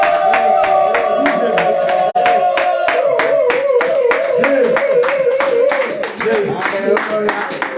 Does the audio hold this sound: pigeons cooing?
no